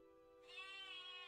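A sheep in the video game Teddy's Haven gives a short, nasal bleat. It starts partway in over a steady tonal game background and stays close and clear.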